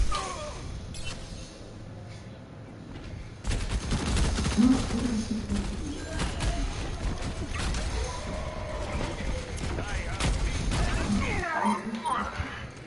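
An enemy turret in Overwatch fires rapid automatic bursts amid loud game combat with clanks and impacts, starting after a quieter opening and continuing over a player's talk.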